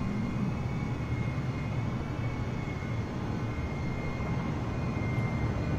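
Low, steady roar of large aircraft engines in the Halo video game near St. Bartholomew's, a continuous loud drone holding throughout with no talk over it.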